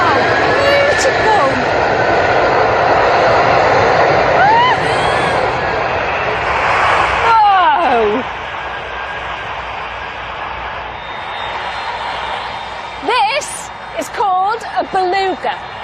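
An Airbus Beluga transport aircraft flying, its loud continuous engine roar filling the scene while voices talk over it and a crowd murmurs in the background.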